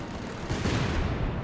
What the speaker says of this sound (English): Light artillery barrage now in this region.